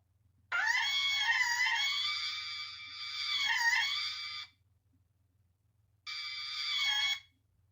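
A voice imitates the terrifying, shrill scream of someone falling, in a long piercing wail followed by a shorter second burst after a pause, loud and close against near silence.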